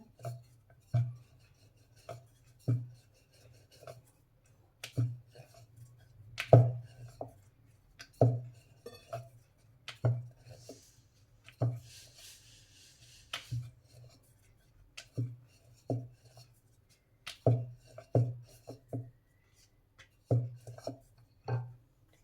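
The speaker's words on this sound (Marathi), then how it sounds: "गोळा घेऊन थोडासा पिठामध्ये बुडवून लाटून घ्यायचा" A small ball of dough, dipped in flour, is rolled out thin with a rolling pin for Maharashtrian fried modak, giving soft repeated knocks and rubbing strokes at a steady rhythm, close and fairly quiet, with no talking.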